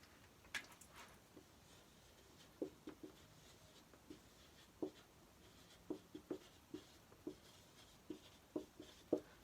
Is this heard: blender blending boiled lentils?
no